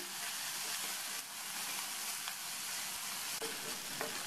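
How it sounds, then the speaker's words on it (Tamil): Chopped tomato and onion sauté in oil in a pan for a spinach kootu, giving a constant close hiss of frying with occasional soft stirring clicks and no voices. "வெங்காயம் வதங்கினதுக்கப்புறமா அது கூட ஒரு சின்ன தக்காளியை கட் பண்ணி சேர்த்து இந்த தக்காளியையும் 2 நிமிஷத்துக்கு வதக்கிக்கணும்"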